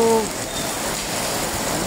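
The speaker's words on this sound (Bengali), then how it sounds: "মুষলধারে বৃষ্টি হচ্ছে, অসাধারণ একটি বৃষ্টি" A heavy evening downpour pours steadily and close by, a dense, even roar of rain with no break across the short stretch.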